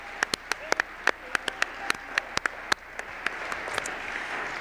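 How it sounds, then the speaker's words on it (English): Applause breaks out for a final arts performance at a county awards ceremony, with many sharp individual claps over a dense wash of clapping from a sizable audience. "Let's give them another round of applause."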